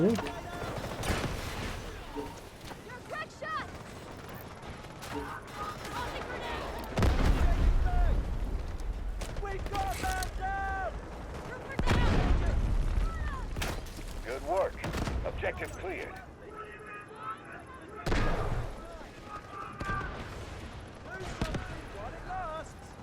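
Gunfire in the video game Delta Force during a recon match: repeated sharp volleys and bursts of shots, some heavy like explosions, running through the whole stretch with a player's excited talk over them.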